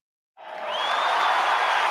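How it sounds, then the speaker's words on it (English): A studio audience at a morning talk show breaks into applause to welcome a police commissioner as a guest. The clapping starts abruptly and swells into steady, loud, dense applause. "I love the applause"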